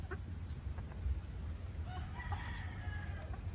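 Pullets and a rooster cluck and crow at a distance, faint over a steady low rumble of outdoor background noise, with one drawn-out crow standing out partway through.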